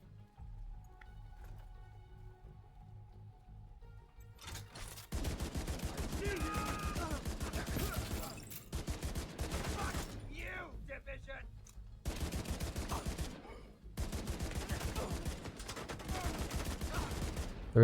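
Rapid auto rifle fire from a third-person shooter, The Division 2, crackling in long dense bursts after a quieter opening of game ambience, loud and close with short pauses between volleys.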